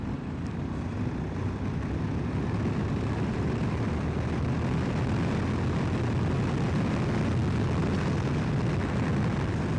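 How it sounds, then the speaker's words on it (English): Adventure motorcycle rolling on the throttle in sixth gear from 40, its engine a loud, steady drone with heavy wind rush and road roar building throughout. "So, 6th gear roll on from 40."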